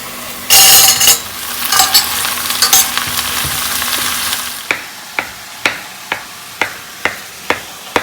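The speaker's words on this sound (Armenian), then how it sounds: "Հիմա տեսեք մի փոքր էլ պղպեղը տապակվեց սոխի հետ մեկտեղ" Bell pepper and onion fry in a hot pan with a loud sizzle that fades. A steady run of sharp, close scraping taps from stirring follows, evenly spaced.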